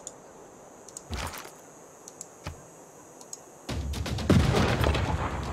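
Gunfire from a ranged attack on a tertio unit in the strategy game Civilization 6, with a couple of sharp isolated shots followed by a denser, louder burst of rapid firing near the end.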